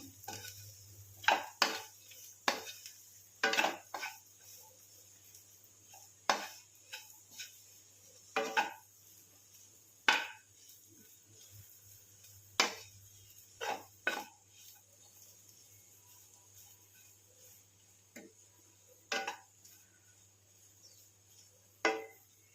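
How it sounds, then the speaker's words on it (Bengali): Spices being stir-fried in a pan give off a scattered series of sharp metallic clicks and scrapes as a spatula strikes the pan. The taps come at irregular intervals over a soft, steady background hum, with no talking. "এর মধ্যে দিয়ে দিলাম মশলা ভাজতে থাকবো"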